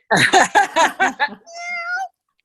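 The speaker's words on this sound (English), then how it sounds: "I see a cat. Does the cat want to speak?" During an online meeting, a string of short vocal bursts is followed by a drawn-out, tonal cat meow, heard close and clear before silence.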